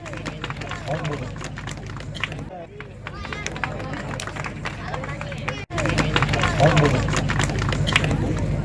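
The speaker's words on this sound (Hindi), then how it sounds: "जरा ताकतवर तालियां बजा के वसीम को मुबारकबाद दे" At an Urdu mushaira, a crowd claps to congratulate a poet named Wasim. Dense, sustained clapping blends with a loud hubbub of voices and chatter, briefly dipping before swelling again.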